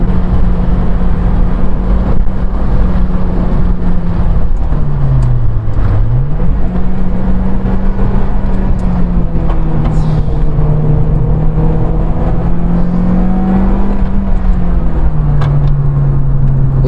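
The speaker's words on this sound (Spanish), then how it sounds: "Es una delicia conducir este coche" Lotus Elise sports car with a 136-horsepower engine driving along a road, a steady loud engine drone rising and dipping with throttle changes throughout, with no voices.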